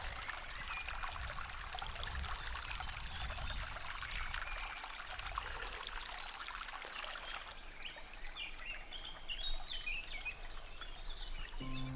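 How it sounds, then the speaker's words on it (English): River water rushes and trickles continuously nearby, with birds chirping faintly in the background. "the water flowing in the river"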